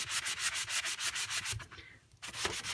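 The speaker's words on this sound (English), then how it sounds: "I'm going to take my sanding block and just do the same thing again" A sanding block rasps back and forth over paper in quick, steady rhythmic strokes, loud and close, pausing briefly before resuming.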